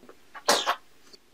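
A single loud sneeze performed as a baby puppet in a comedy puppet act, a sharp burst with a short intake and trailing tail, briefly standing alone between quiet moments.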